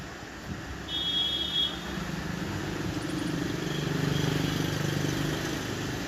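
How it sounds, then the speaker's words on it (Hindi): A Massey Ferguson 375 tractor engine runs steadily at a low idle, a continuous rumbling drone that stays at an even level throughout with a faint high whine briefly on top. "आवाज़ भी ट्रैक्टर की बहुत मस्त हो गई है।"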